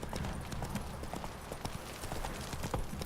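Roach the horse galloping in The Witcher 3 game, hooves pounding in a fast, steady clip-clop rhythm close by, continuous throughout.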